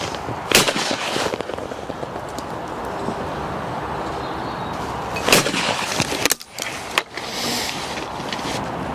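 A Browning shotgun fires at a game-shooting clay range, several sharp loud blasts spaced seconds apart with echoing tails and some background noise between shots.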